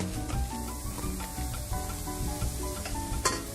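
Small diced onions sweating in a pan without oil, a steady close hiss with frequent scraping and clinking as they are stirred, no voices.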